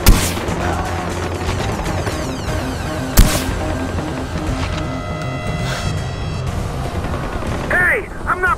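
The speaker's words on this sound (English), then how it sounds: "Bad guys coming in, taking fire!" Gunfire crackles through a Far Cry 4 firefight, with dense rapid shots and one louder blast standing out against a busy backdrop of game effects and music, continuing steadily throughout.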